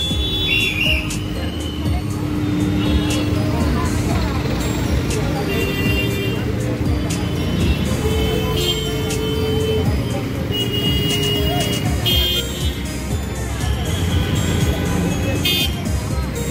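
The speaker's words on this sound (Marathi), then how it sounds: "तर इकडे आता खूप ट्रॅफिक पण लागलेले आहे" Busy road traffic near Mount Mary Church in Bandra, a continuous rumble of cars and buses with sharp whistle blasts and scattered horns, people talking nearby throughout.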